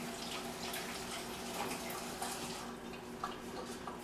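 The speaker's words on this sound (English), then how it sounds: "Let me rinse my hands off." Running tap water pours steadily as hands are rinsed under a kitchen faucet, a continuous close splashing hiss with small shifts in flow and no speech.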